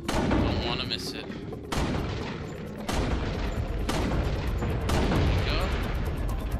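Rapid, loud gunfire at the shooting range in Resident Evil 4, with repeated sharp shots in close succession filling the whole stretch.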